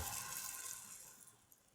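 Pancake batter made with banana and whole wheat is poured into a hot oiled pan, giving a faint, steady hiss and sizzle that slowly fades, with no talking.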